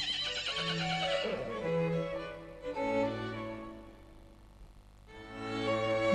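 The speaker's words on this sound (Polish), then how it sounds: "Tu jest koń." A horse neighs and whinnies in several separate calls over about six seconds, fairly close and clear, with a faint hint of hoof clops and no voices.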